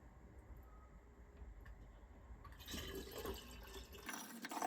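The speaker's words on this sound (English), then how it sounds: "Using a funnel and a strainer, I pour off the liquid accumulated on the top." Mirabelle plum liquid is poured through a funnel and strainer, starting as a faint trickle and swelling into a louder, steady splashing pour over the final seconds.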